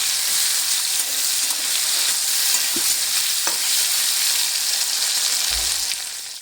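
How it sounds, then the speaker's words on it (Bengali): Tomato and green chillies frying in a pan give a loud, continuous sizzle, with a couple of soft scrapes and knocks from stirring and a brief low thump near the end. "কাঁচা লঙ্কা আর টমেটোটা খুব ভালো করে ভেজে নেব।"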